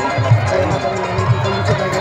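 A large, dense crowd at the Giraudpuri Satnam fair of 2023, a loud, continuous close murmur of many voices and movement, with a nearby voice speaking over it.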